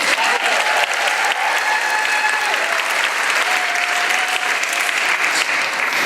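An audience at a school student awards evening applauds the jazz band with dense, sustained clapping that stays loud and even from start to finish, with a little crowd noise mixed in.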